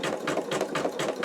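An embroidery machine sews a zigzag stitch on an in-the-hoop wallet, giving a rapid, evenly pulsing mechanical chatter up close, continuous and moderately loud without any voices.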